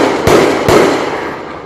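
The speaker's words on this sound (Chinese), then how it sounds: "只好开枪警告。" Police fire two sharp warning gunshots into the air, about half a second apart, to break up a crowd brawl outside a police station in Yunlin. The loud cracks fade quickly into background noise.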